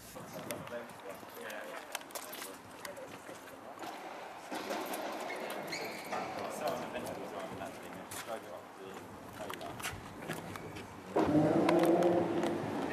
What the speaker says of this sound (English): The de-chromed, beautiful Maserati.